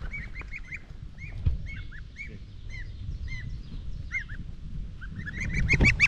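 Young geese on a homestead give repeated short honks and peeps, close and steady throughout, with louder calls bunching up near the end and no talk.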